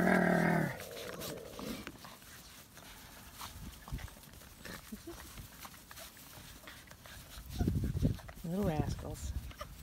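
Puppies scuffle and play in dirt and grass, giving soft growls and yips with scattered patter of paws, while someone talks to them nearby.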